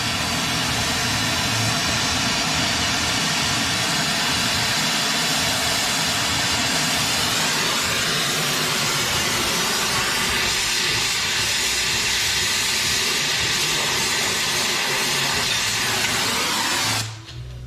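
A torch blasts heat onto an Audi Q5 front wheel bearing race to expand it, producing a loud, steady roaring hiss that runs continuously for most of the clip before cutting off abruptly near the end.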